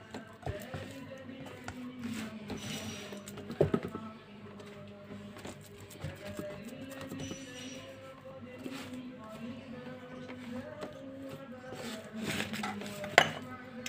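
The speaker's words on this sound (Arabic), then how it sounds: "اسويها بالسباتولا بتاعتي" A spatula scrapes and smooths mashed potato across a casserole tray, with soft scraping strokes and occasional clinks of utensil on the tray, while someone talks throughout.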